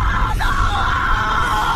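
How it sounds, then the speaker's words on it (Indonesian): A woman in an Indonesian horror film lets out a loud, sustained scream that holds at high pitch for nearly two seconds without a break. "lalu ia menjerit dengan sangat kencang"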